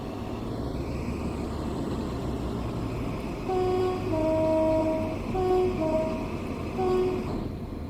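Class 101 diesel multiple unit running in Train Sim World 2, a steady low engine and rail rumble with faint tonal whines rising and falling through the middle, no talk.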